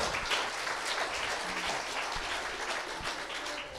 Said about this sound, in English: How about a round of applause for my wife?